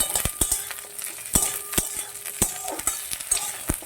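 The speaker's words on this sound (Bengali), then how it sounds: "বিনস আর ফুলকপিটা আমি বেশ ভালো করেই ভেজে নেব" Beans and cauliflower fry in hot oil for a veg dal, a steady close sizzle broken by sharp clinks and scrapes of a spatula stirring against the pan, with no voices.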